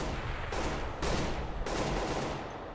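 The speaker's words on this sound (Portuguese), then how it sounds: "Flashbang." Flashbang grenade in CS:GO bursting amid a rapid series of sharp, loud cracks and gunfire-like bangs, dense and close, with no talk.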